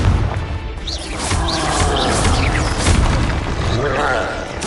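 Confringo fire-blast spell in a Harry Potter video game, a booming burst with crackling debris under a voice calling out, sustained for several seconds.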